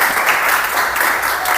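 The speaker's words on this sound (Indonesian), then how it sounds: "silakan dulu tepuk tangan yang meriah" A class of children applauds a group presentation in a classroom, a brief, loud, dense burst of clapping heard close up with no talk over it.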